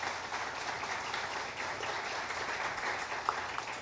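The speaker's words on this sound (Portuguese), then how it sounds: "Uma salva de palmas por esse missionário" A church congregation at a Sunday service applauds a missionary, a brief, moderately quiet wash of many hands clapping at once, steady and unbroken.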